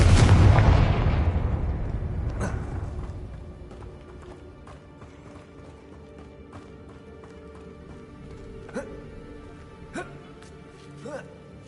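Confringo blasting spell in the Hogwarts Legacy video game: a loud booming explosion at the start that rumbles and fades over several seconds, followed by sparse game clatter and small impacts.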